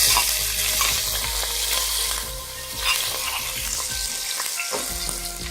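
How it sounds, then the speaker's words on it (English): Ground ginger and four cloves roast in hot oil with browned cumin seeds for langar-style urad chana dal, giving a steady close sizzle with scraping stirs throughout and no talk. "roast the ginger and cloves"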